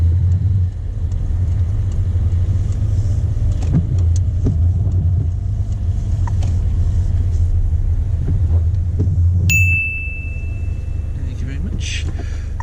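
Car interior on a mock driving test in Oxford: a steady low engine and road rumble runs throughout, close and continuous, with a brief high electronic tone near the end as the drone drops away.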